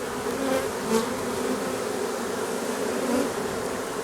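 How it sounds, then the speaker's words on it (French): A honeybee swarm buzzes steadily and close, a dense continuous drone with slight swells in loudness, filling the whole stretch without talk. "l'essaim peut toujours ressortir."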